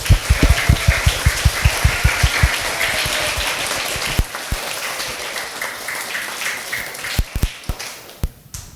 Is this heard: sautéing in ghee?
no